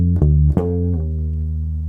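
A short bass guitar lick of a few plucked notes, close and clear, with a slide between notes before the last note rings out and sustains alone.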